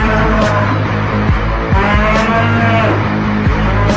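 A buffalo moos loudly and continuously, a deep drawn-out bellow close by with dense layered noise throughout.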